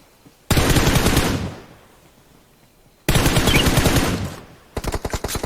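PUBG Mobile gunfire: two long bursts of rapid automatic fire, loud and close, then a quicker run of separate shots near the end, with short quiet gaps between them.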